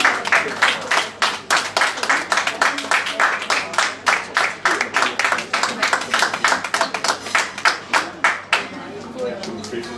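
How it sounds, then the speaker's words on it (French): A dinner-event audience in a Paris restaurant claps together in a fast, steady rhythm, loud and close for the whole stretch, with voices talking and calling out over the beat. "Et là, on peut les applaudir aussi, là, maintenant."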